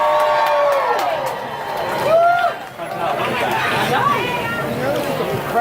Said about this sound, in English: The crowd just keeps growing and growing.